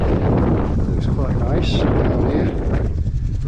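Strong wind buffets the microphone in a steady, loud roar during a bike ride on a sandy, windswept English seafront path, with a few faint brief sounds poking through the gusts.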